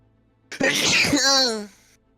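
A single loud, close sneeze: a sharp burst that trails into a drawn-out, voiced wail before fading.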